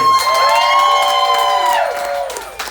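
A comedy show audience aboard a Carnival cruise ship yells, whoops and cheers loudly in a sustained burst that tapers off after about two seconds.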